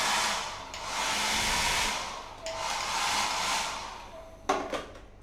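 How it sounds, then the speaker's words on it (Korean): A hotel-room hair dryer blows loudly in a steady rush that dips briefly midway, then cuts out near the end with a few clicks and knocks. "여기는 드라이어기."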